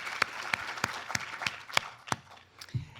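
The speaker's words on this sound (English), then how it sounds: "Let's give them a applause." Sparse, separate claps ring out from an awards show audience, one sharp hand clap roughly every third of a second, fairly faint and spaced out rather than a full ovation.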